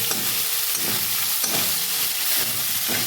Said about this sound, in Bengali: সাবুদানাগুলো আমি একটু ভেজে নেব